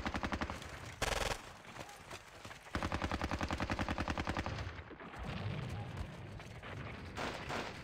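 Tanks and guns firing in the WWII strategy game Squad Battles: Red Victory, with a burst of rapid machine-gun-like rattling, a loud blast and then lingering rumble, fairly close and without speech.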